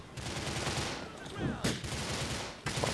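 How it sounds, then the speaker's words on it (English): Police gunfire in GTA IV breaks out in bursts of sharp game shots over a busy mix of street and engine noise, with several loud cracks near the middle and end. "police are trying to shoot these guys"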